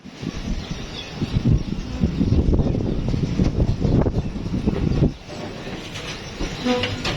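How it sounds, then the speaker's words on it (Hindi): A train pulling away at Hyderabad station: a steady low rumble and rolling clatter build over several seconds, then drop to a quieter hum, with no talking. "चलो भाई ट्रेन चलने लग गई है।"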